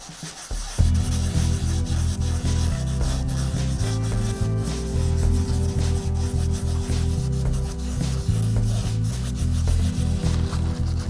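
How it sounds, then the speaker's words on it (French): Rhythmic scrubbing with a Scotch-Brite abrasive pad on a metal engine piston, close and loud, in steady back-and-forth strokes that continue without pause and with no talking. "je gratte au Scotch-Brite"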